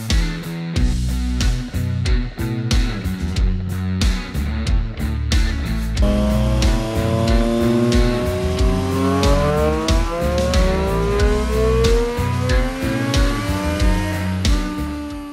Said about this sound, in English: Right, so that's a stock bike run on the dyno